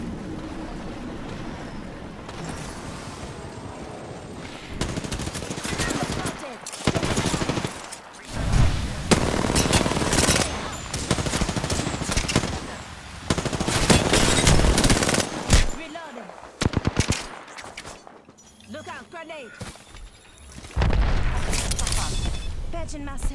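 Gunfire in the shooter Apex Legends, with repeated bursts of automatic fire and loud shots mixed with game effects, and a player talking in between.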